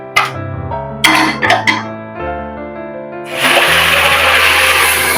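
A few light clinks and knocks come from a pan, then hot saffron water is poured into sooji kesari with a steady, close, rushing hiss and bubbling that continues to the end.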